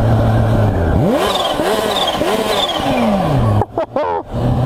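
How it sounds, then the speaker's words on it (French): Supercharged 2016 Kawasaki H2 motorcycle engine revving in several rising sweeps, its turbine whine audible above the roar, loud and close, then cutting to brief sharp bursts near the end. "Ah ouais, la turbine, on l'entend."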